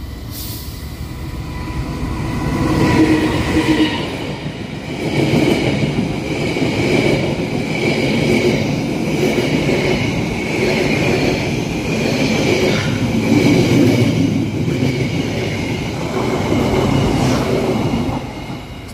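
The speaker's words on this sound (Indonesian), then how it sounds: "Saat ini keretanya sudah muncul, kereta api Malabar." The Malabar passenger train in Indonesia rumbles past on double track for a long stretch, with steady rolling wheel noise, rhythmic clacking, and some metallic squeal, fairly close and loud.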